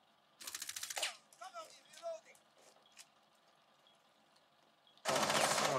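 Rapid automatic gunfire from Rainbow Six Siege erupts in two loud bursts, one near the start and a heavier one at the end, with quieter game effects and faint distant shots between.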